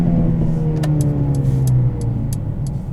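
A 2021 Mercedes-Benz CLA 35 AMG with a 2-liter four-cylinder engine, heard from inside the cabin as a loud, close, sustained drone that holds steady and then eases slightly, with faint clicks over it.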